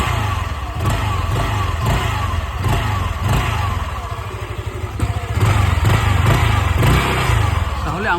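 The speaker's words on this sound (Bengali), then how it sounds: "এই যে গাড়িটা স্টার্ট করে দিলাম" New scooter engine started and running, a steady mid-pitched idle with rhythmic pulsing and a slight rise in revs partway through, fairly close.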